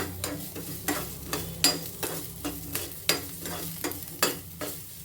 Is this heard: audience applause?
no